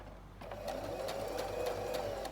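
Sewing machine stitching Liberty fabric ruffles: after a brief quiet start the motor runs up into a steady, close mechanical hum with rapid needle ticks for about two seconds.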